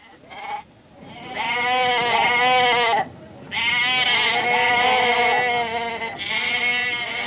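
Sheep give several long, loud bleats in succession, close by. The wavering calls are broken by short pauses.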